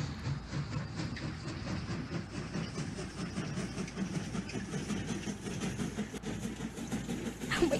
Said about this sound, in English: Wow, fast train.